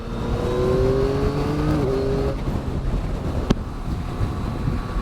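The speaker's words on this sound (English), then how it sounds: "quite a lot of airbox sound, like induction noise, which is nice." Yamaha MT-09 motorcycle engine with airbox induction noise, revving up then easing off through a gear change, heard from the rider's position under steady wind rush, with a sharp click partway through.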